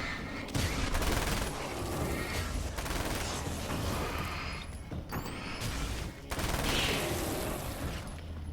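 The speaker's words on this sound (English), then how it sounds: "So we're rocking this SMG right now." Sustained SMG gunfire in the video game Alan Wake's American Nightmare, a dense, continuous rattle of shots with brief gaps, loud and close, mixed with game effects.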